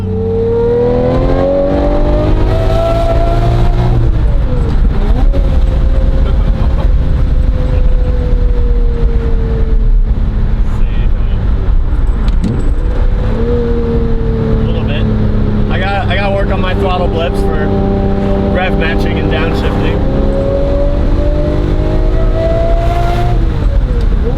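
A Lamborghini Murcielago LP640 converted to a gated manual accelerates hard through the gears, its loud engine rising in pitch, dropping at each shift and climbing again, with people talking over it inside the car.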